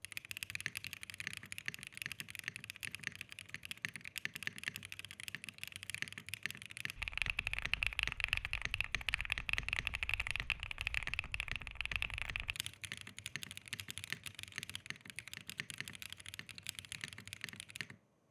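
Steady, continuous typing on a Bridge75 75% mechanical keyboard assembled without foam, fitted with PBT keycaps and a ball-catch case mount; dense rapid keystrokes alone, with a louder, busier stretch in the middle.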